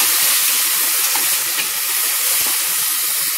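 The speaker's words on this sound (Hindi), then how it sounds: "अभी इसको ब्राउन आने तक फ्राई करेंगे" Ginger, garlic and green chili fry in a pan of oil with spices for mutton biryani, giving a loud, dense, steady hissing sizzle close up with no voices.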